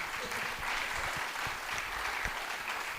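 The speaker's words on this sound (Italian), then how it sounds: "non avete fatto un applauso ai relatori" An audience at a presentation of a statistical report on the Veneto region applauds the speakers. The clapping is dense and steady for the whole stretch, with no talking over it.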